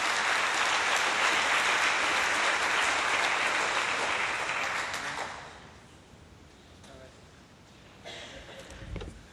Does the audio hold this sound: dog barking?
no